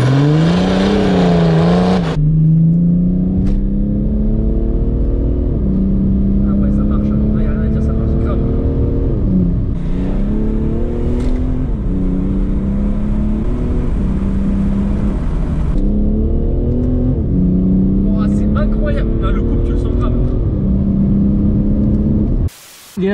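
A 400-horsepower BMW 335d engine drones and revs repeatedly in rising and falling sweeps, loud and close, with a hissing spray in the background.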